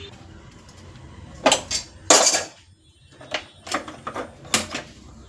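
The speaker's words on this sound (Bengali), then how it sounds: "গ্যাসটা জ্বালিয়ে নিয়েছি কড়াটা বসিয়ে দেবো" A wok is set down on a lit gas stove with a few sharp metallic clanks and clatters in separate bursts, close and fairly loud against a quiet background.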